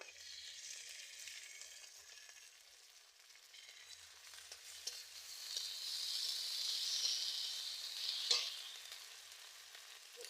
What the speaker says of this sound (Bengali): আদা রসুন বাটা দিয়ে দিচ্ছি তেলের উপর